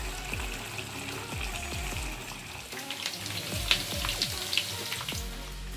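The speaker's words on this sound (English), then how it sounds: "I am frying some meat along with onions" Steady crackling sizzle of meat and onions frying in a pan for smoked pork and bamboo shoot, with repeated scraping stirs and occasional sharper pops, close and continuous.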